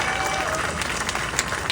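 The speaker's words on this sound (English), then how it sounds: "Round of applause for these guys." Crowd applause at the grand opening ceremony for the KC Streetcar Main Street extension: steady, dense clapping throughout a short burst, with some voices mixed in.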